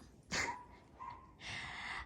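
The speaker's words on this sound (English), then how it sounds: "And I have a loose dog in my garden." A neighbour's loose dog in a front-yard garden gives two or three short barks and a yelp, fairly close and clear, with no talk over it.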